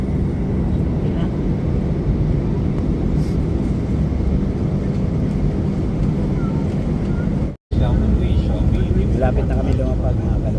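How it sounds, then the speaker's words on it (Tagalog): Steady broadband airplane cabin roar during a landing approach on a flight to the Philippines, constant and loud with a brief dropout, faint voices murmuring beneath. "Malapit na kami lumapag"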